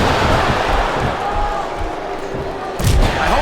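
Arena crowd noise in the wrestling video game WWE SmackDown vs Raw 2007: a continuous roar of cheering fans with thuds and slams from the ring and a louder burst near the end.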